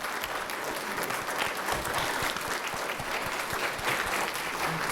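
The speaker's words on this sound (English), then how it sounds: "let's give our panelists a round of applause" An audience applauds panelists at the end of a discussion on African American economics and the racial wealth gap, a steady dense clapping sustained at a moderate, somewhat distant level with no voices.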